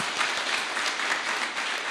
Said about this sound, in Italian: un applauso anche a Luca